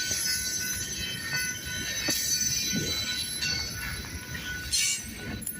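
Train passing through a railroad crossing in Garretson, South Dakota, a steady rumble of wagons and wheels with high metallic squealing and scattered clanks, fairly close and continuous throughout.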